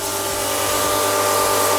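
A steady, loud hissing spray with a constant mechanical whine underneath, continuous and close, from a high-pressure washer spraying a mountain bike's rear gears, running without pause.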